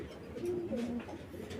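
Domestic pigeon cooing at close range, a few soft low throaty coos over a steady background murmur.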